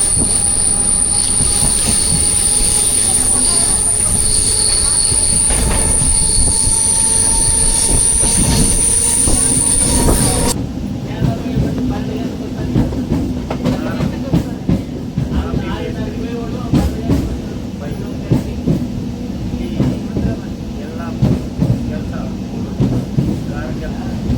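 A MEMU passenger train on the Tirupati to Katpadi route runs on rails, with a loud continuous rumble and squeal, then rhythmic clickety-clack of wheels over joints heard from inside the coach.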